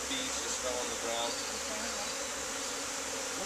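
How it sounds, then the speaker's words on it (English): A swarm of honeybees at a backyard hive fills the air with a loud, steady buzz, many wings droning together close by without letup. "Look, a lot of bees."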